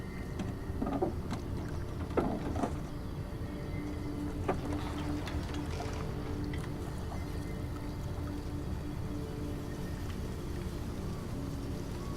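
In the video game Detroit: Become Human, water swishes and laps steadily against a gliding boat, a constant rushing wash with a few faint creaks and splashes.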